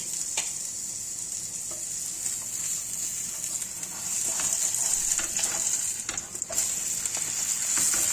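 Yufka pastry sheets brushed with a filling mixture cook in a pan, giving a steady close sizzle and frying hiss that grows slightly louder partway through, with a few soft scrapes and no talking.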